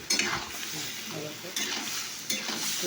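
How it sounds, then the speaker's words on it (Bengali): Soybean chunks with chili and water sauté in a pan under a steady sizzle, broken by three scraping stirs of a spatula against the metal, close and moderately loud. "এটা কষতে হবে একটু। কষতে হবে, এবার কষছি।"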